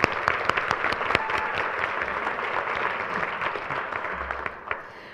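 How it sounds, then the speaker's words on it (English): Steady applause from a crowd at a school board meeting fills the whole stretch, dense clapping that fades slightly near the end. "we need to clap for her"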